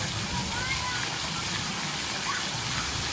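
Water pours steadily into a big tipping bucket at a kids' splash zone on Harvest Caye, a private island water park, a continuous rushing gush that stays loud and even throughout.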